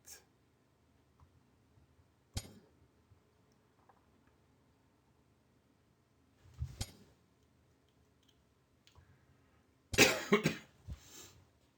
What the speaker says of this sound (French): Ouais, toujours cette toux, c'est